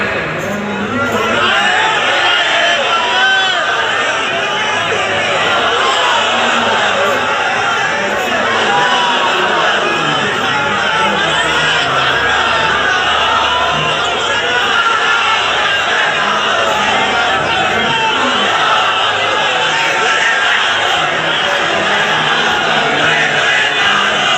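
A large crowd at a sermon chants slogans continuously, a loud, dense wash of massed voices that persists steadily throughout without pause.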